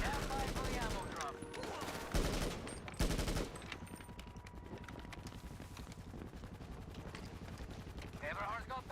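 Gunfire in GTA Online: rapid bursts of automatic shots and heavy blasts, the loudest near the middle, over a busy mix of game sound effects.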